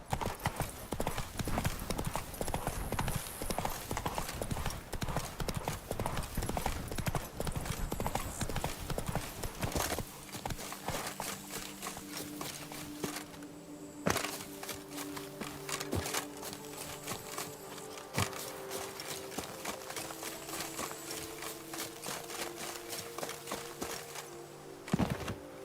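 The horse Roach trotting in The Witcher 3, a rapid, steady clip-clop of hooves close by, busy at first and then sparser over a quieter background with occasional clatters.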